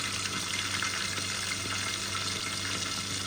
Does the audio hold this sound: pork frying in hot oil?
yes